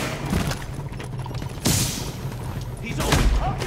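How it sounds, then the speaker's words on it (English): A grenade blast and bursts of gunfire in the PC shooter Tom Clancy's The Division: sharp, booming broadband hits around two and three seconds over a steady bed of rumbling combat noise. "Throwing a grenade!"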